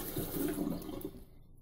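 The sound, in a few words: water running from a tap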